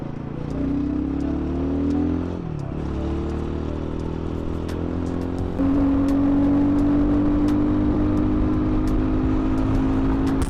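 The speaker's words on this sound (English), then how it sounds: "Surprising amount of high rev punch" A Royal Enfield Himalayan 450 motorcycle revs high on a highway. The engine note holds a steady loud whine, dips briefly, then climbs to a stronger, higher sustained tone over a constant low road rumble, with no talk.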